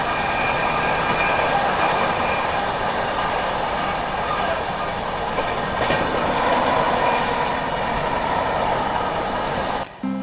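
Ranchi Rajdhani Express racing at speed through Aligarh Junction, heard from on board as a loud, steady rumble and rattle of rail wheels that holds for about ten seconds before cutting off abruptly.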